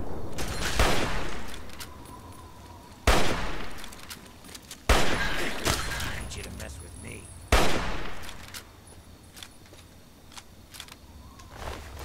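Hunting rifle fire in Fallout 3, with four loud, sharp shots spaced a couple of seconds apart, each followed by a ringing tail, over faint game ambience.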